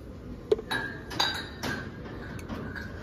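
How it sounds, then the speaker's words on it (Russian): A small jar with a bamboo lid is handled up close, giving a few light clinks and taps against a quiet background. "Вот такая баночка с бамбуковой крышкой."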